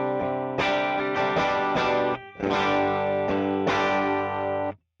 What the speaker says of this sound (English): we're going to add in the compressor at the top of the chain